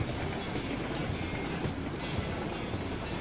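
A train running in the RailRoads Online video game, heard as a steady, dense rumble with faint rhythmic clatter that stays loud and even throughout, with no voices.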